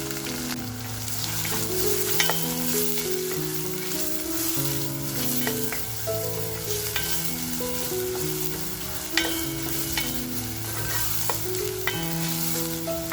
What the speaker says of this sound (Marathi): कांदा आपल्याला ना करपवायचा नाही आहे पण छान असा मंद आचेवर मस्त फ्राय करून घ्यायचे